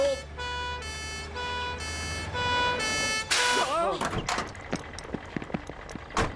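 A fire engine siren wails in steady repeated blasts, loud and close, then cuts off and gives way to clattering, bustling activity.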